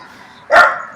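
A single sharp dog bark, close and loud, rising out of quiet in an orchid garden in central Mexico, followed by a brief faint click.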